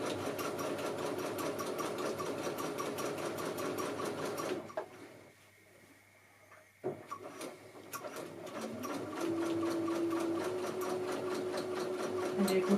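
A sewing machine stitching through quilt fabric runs in a steady, fast mechanical patter, stops briefly midway with a few soft handling knocks, then starts again at full speed with no talk.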